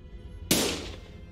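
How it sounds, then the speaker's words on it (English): A single sharp gunshot from the video game Limbus Company cracks out loud and sudden, then decays over a short tail against a quiet background. "Gunfire filled my ears"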